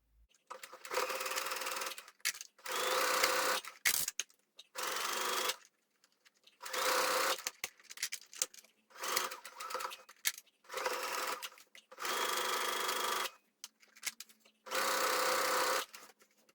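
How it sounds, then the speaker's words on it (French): A sewing machine stitches a fabric rabbit-shaped bag in repeated bursts, about eight runs of steady whirring stitching separated by short pauses, close and clear with no talk. "vous êtes sûr de bien coudre droit tout le long"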